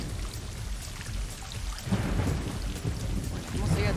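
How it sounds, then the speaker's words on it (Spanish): Heavy rain pours during a thunderstorm while a low rumble of thunder rolls in and swells loudly about halfway through, continuing under the steady downpour. "¿cómo sigue la tormenta?"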